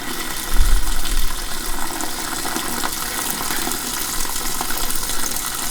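Hot turkey bone broth is poured into jars, a continuous liquid splashing and gushing stream that begins with a low thump and carries on steadily.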